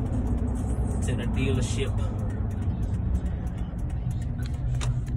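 A vehicle rolls up to a car dealership with a low engine and road rumble heard from inside, while someone talks over it throughout.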